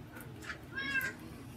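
A cat in the Minecraft video game gives a couple of short meows, the second one clearer and higher, over faint background noise.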